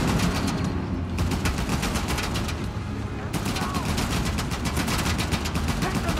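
Sustained machine-gun fire rattles steadily in Uncharted: The Lost Legacy during a runaway train sequence, dense and continuous with a short lull partway through.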